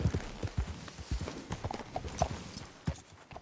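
Hoofbeats of a horse in a PS4 video game, a quick uneven clip-clop rhythm of galloping that is fairly faint and continuous, with no voices over it.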